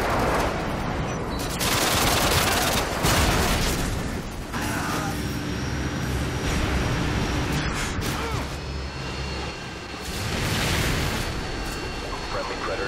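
A Harrier jet airstrike in Modern Warfare 2 brings a roaring, sustained wash of rapid cannon fire and explosions, loud and chaotic, with in-game voices calling out over the din.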